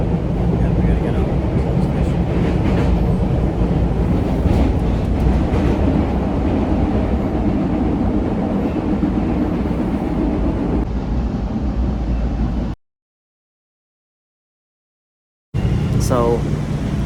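An MBTA subway train rumbles loudly through a single tunnel in Boston, a steady roar with rattling wagons and a low drone, then a sudden cut to silence before a brief squeal returns.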